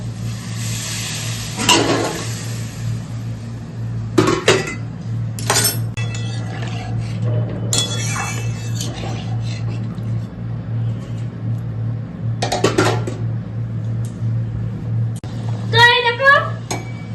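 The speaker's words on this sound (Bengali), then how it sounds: "এবার আমি গরম জল দিয়ে দেবো।" Hot water is poured into a pan of dry, cooked-down chhana curry, raising a brief hiss and sizzle. Spoon clinks and stirring scrape follow over a steady kitchen hum.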